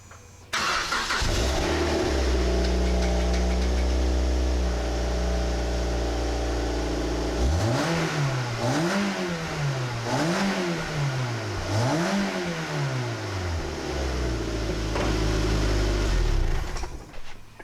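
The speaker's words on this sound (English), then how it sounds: "let's see just how loud the exhaust is originally" A 2007 Mazda Miata NC with its stock exhaust starts and idles steadily, then revs up and down in three or four rising and falling sweeps before settling back to idle, heard up close with no talking.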